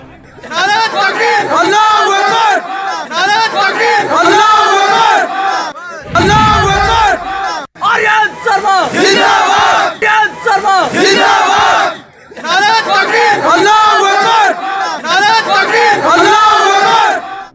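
A large crowd at a political rally chants the Nara-e-Takbir slogan in loud, rhythmic call-and-response bursts of massed voices with short pauses between them.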